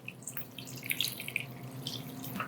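Hot water running and splashing steadily into a big bowl, a continuous close trickle with small drips and clinks over a low background hum.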